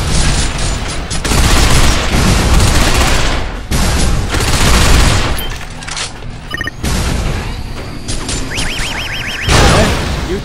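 Enemy gunfire in the video game Binary Domain, loud sustained bursts of rapid shots and heavy booms crashing in waves, broken by short lulls and mechanical clanks, with no talking.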